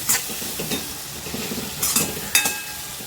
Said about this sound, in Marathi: छान टॅमॅटोवर मसाले आपले परतलेत